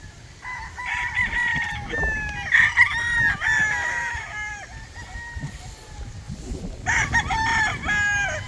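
Gamefowl bull stags and cocks crowing at a farm, several overlapping cock-a-doodle-doo calls near and far, with clucking and scratching noises between crows.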